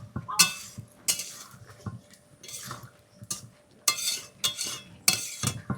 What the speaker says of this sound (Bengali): এবার আমি এই মাছ দিয়ে এই মশলার সঙ্গে বেশ ভালো করে একটুখানি কষিয়ে নেব